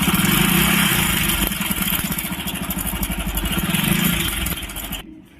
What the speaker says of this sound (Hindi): ये टाइमिंग चेन बहुत ज़्यादा आवाज़ कर रहा है।